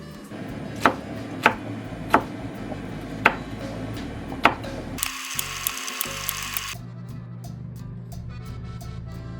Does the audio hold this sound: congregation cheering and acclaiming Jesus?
no